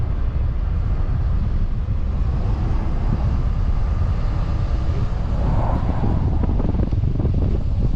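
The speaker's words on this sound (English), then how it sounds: "F-18's gonna come around the side over here." An F/A-18 Super Hornet jet at an air show rumbles steadily as a broad, continuous roar, with wind buffeting the microphone throughout and the engine noise swelling slightly toward the end.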